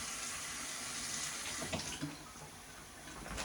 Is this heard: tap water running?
yes